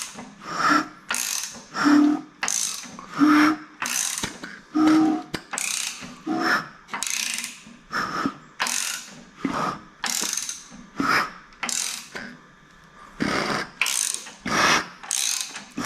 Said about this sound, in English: Listen, vacuum pump works.